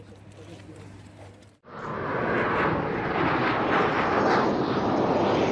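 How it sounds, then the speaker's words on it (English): Passenger plane flying low over Nepal just before crashing, its engine roar swelling suddenly to a loud, sustained drone after a quieter opening stretch. "This is the moment a plane crashed in Nepal on Sunday morning."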